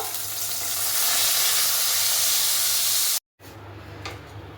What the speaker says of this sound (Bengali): দেখুন বন্ধু এইগুলো ভেজে নেবো